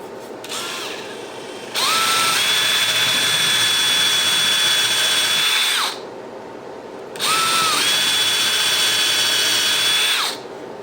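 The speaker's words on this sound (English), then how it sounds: "I'm gonna drill my plunge hole" A 3/8 drill bit boring a plunge hole into a board for a coat rack, two sustained high whining runs of about four and three seconds each, loud and close with a short pause between and steady pitch throughout.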